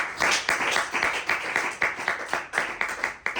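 A church congregation applauds for God, the claps coming in a lively, roughly rhythmic patter of sharp hand strikes that holds steady throughout, with no one talking.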